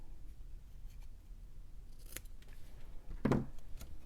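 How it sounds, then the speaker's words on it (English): Scissors snip through cardstock diagonally for a craft card, two quiet, close cuts with the second crisper and louder, in a calm room. "And then I'm going to actually snip these kind of diagonally."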